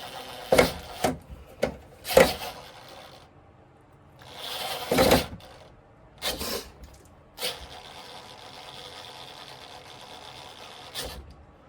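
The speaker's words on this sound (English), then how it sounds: "This is also screwing into a knot in the wood." A screw is driven into a knot in wood, giving several sharp creaking, grinding bursts of varying length with quiet gaps between them, heard up close.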